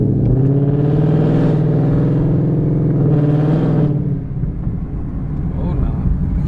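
Ford Mustang GT V8 exhaust rumbling while driving, a deep, loud, steady drone that swells and eases, with people talking over it inside the cabin.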